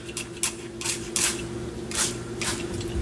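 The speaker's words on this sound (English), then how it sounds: "So I just spray it." A handheld spray bottle mists onto hands before a nail overlay, about six short, sharp hissing bursts at an uneven rhythm, close and fairly loud, with no talking.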